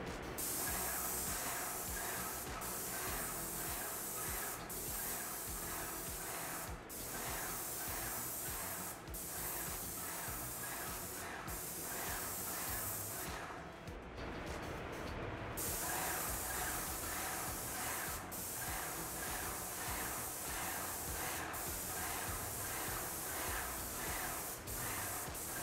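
A Graco Magnum A30 or A45 airless paint sprayer runs at full pressure, giving a loud, continuous hiss with faint regular clicks from the pump and a brief dip partway through.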